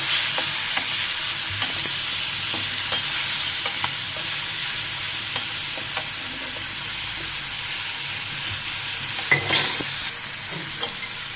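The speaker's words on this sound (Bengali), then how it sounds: "মাংসগুলো একটু লাল লাল করে ভেজে নিব।" Turmeric- and salt-coated chicken pieces fry in hot oil, a continuous close sizzle broken by scattered scraping stirs and small pops, fairly loud and with no talking.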